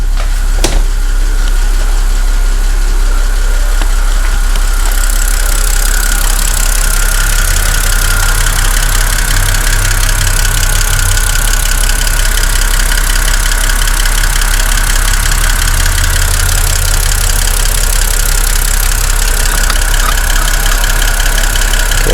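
A BMW E60 with a Valvetronic engine idles steadily and close by after new gaskets on the Valvetronic motor, oil filter housing and oil cooler, a continuous even hum with a faint ticking texture and no voices.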